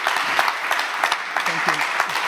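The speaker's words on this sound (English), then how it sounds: "Ladies and gentlemen, a big round of applause to Michelle" An audience at an international facade architecture summit applauds a speaker, with steady, dense clapping throughout a short burst and a few voices murmuring beneath it.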